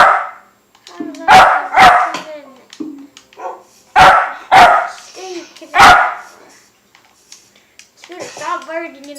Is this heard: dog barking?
yes